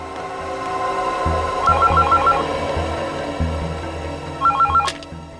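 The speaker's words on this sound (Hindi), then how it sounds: "ये किसका फोन आ गया?" An electronic phone ringtone trills twice in short warbling bursts over a low background hum, the second ring cut off abruptly.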